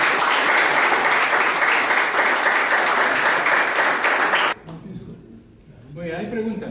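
An audience at a talk breaking into loud, dense applause that holds steady for several seconds, then stops abruptly as a voice begins speaking.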